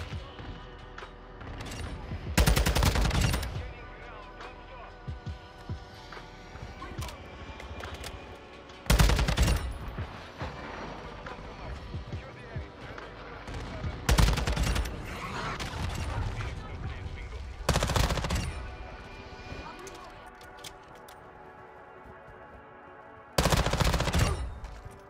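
Bursts of automatic SMG fire in Call of Duty Modern Warfare 2, five loud separate volleys spaced several seconds apart, with game ambience and movement between them.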